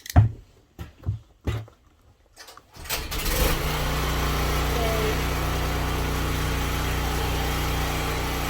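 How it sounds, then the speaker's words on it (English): A portable generator being pulled to start: several sharp cord-pull bursts, then the engine catches and settles into a loud, steady running drone. "Jess, is it okay for me to turn on this generator"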